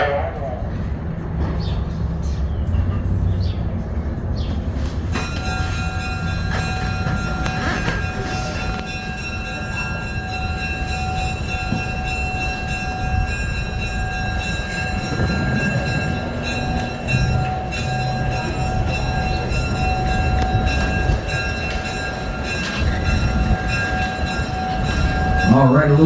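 A museum train slowly gets underway, low rumbling and clanking building beneath a steady high tonal whine, with people talking now and then.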